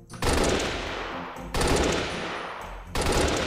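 A battle rifle from a Halo mod in the game Unturned fires three loud bursts of rapid shots, one roughly every one and a half seconds, each with a quick rattling report and a ringing tail.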